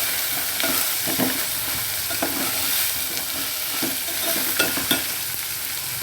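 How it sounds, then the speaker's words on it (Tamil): Potato and carrot pieces sauté in an oiled pan with a close, continuous sizzle, broken by repeated scraping and clattering strokes of a spatula turning them over. "உருளைக்கிழங்கு கேரட்டு போட்டு கொஞ்சமாக வதக்கிக்கணும்"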